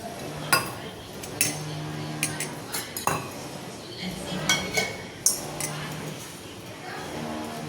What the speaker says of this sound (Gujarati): થોડું પાણી એડ કરીશું અને મિક્સ કરી દઈશું